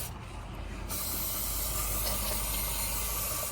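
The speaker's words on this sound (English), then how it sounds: "take your starter fluid or brakes cleaner, whatever, and just" A close, steady hiss of brake cleaner aerosol spray, on a Tillotson 212 engine build, that starts after a brief quieter moment and continues without a break.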